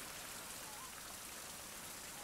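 Steady, dense rain falls in the survival video game Survival - Fountain of Youth, a soft continuous hiss with no breaks and no voices.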